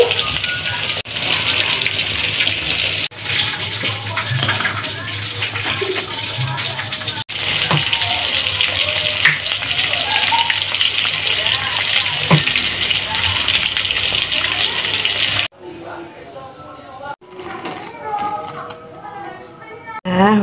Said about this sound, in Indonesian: Goreng tahu dulu